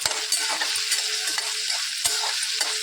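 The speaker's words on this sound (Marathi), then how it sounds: "चांगली तडतडती आहे राई आणि जिरा आपण चांगलं असं भाजून घ्यायचं आहे" Mustard and cumin seeds crackle and pop in hot oil, giving a steady close sizzle with sharp, irregular snaps scattered throughout.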